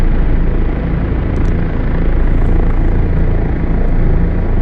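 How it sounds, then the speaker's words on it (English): A Kiowa helicopter in the DCS flight simulator flies forward at around 60 knots, its rotor and engine producing a loud, dense, continuous roar that stays steady throughout. "once I hit 60 knots in the Kiowa, that's about the speed I like to try climbing out in"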